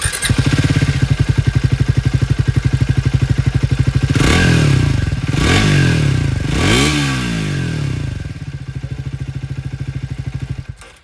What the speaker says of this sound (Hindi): सबसे पहले ट्रायम्फ स्पीड 400 की आवाज़ सुन लीजिए।